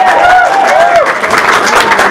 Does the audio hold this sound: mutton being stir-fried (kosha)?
no